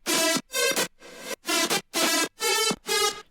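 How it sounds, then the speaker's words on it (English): A lead synth in a future bounce track produced in FL Studio, playing seven short, punchy chopped notes in a bouncy rhythm, each trailing into a wash of unautomated reverb, loud and upfront. "you can hear the reverb just going crazy"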